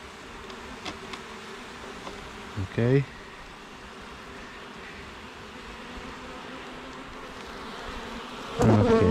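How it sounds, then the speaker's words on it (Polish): Steady insect buzzing from a crowd of honeybees on a hive frame during a hive inspection hums throughout, with a short spoken word and a couple of brief handling noises. "widać, że tam dużo pszczoły siedzi na ostatniej ściance"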